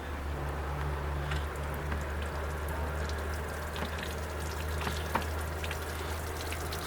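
Water trickling steadily from the gap between the transom and transom assembly of a Regal boat with a Mercruiser sterndrive, a continuous close wash over a low hum with occasional faint drips.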